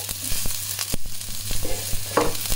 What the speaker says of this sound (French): Donc là, je fais revenir les petits oignons. Hop, avec le chou.